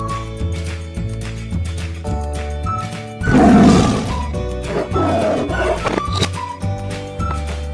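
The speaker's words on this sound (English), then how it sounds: "Tiger cub." Toy tiger cub letting out a loud, rough roar in the middle, set against a bouncy looping electronic children's melody that plays throughout.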